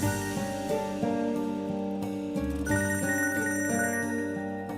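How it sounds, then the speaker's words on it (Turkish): A mobile phone rings indoors with a steady, repeating melodic ringtone that fills the whole stretch, fairly close and unbroken, with no voices over it. "Çıkar birazdan telefonu çalacak Halil."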